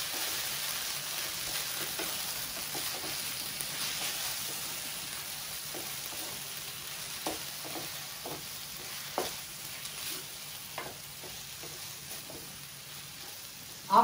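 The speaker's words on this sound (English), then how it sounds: "Mix it again." A spoon stirs brinjal coriander curry in a pan. Quiet scrapes and taps fall irregularly over a faint steady sizzle, and a sharper knock comes at the end.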